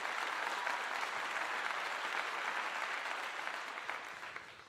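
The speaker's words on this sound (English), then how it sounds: "Let me give you a clap" Steady applause from a crowd, a dense continuous wash of clapping that holds level and then tapers off slightly toward the end, with no voices over it.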